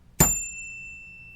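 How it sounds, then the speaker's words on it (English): A single bright strike on a small bell, a sharp ding whose clear ringing tone fades slowly over about a second, heard alone in a quiet room. "I'm going to ring the bell."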